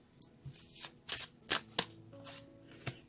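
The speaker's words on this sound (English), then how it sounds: "Another shuffle, they said." Tarot cards are shuffled up close in several quick riffling bursts, each a short crisp flutter, with no talking.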